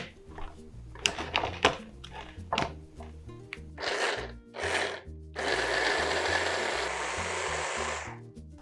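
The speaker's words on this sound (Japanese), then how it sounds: "しっかりトロトロになるまでブレンダーかけてくださいね。" Blender puréeing chickpea hummus with melted anchovies, starting with a few short thumping pulses, then a sustained steady whir for the last few seconds.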